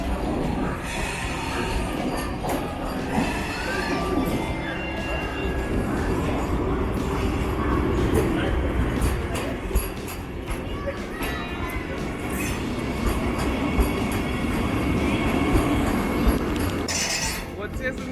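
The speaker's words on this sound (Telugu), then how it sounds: "so Vande Bharat express train number 20607 వచ్చేస్తుంది" The Vande Bharat Express, train 20607 on the Bengaluru to Mysore route, pulls into a station with a steady, broad rumble and scattered metallic clinks, while people talk on the platform throughout.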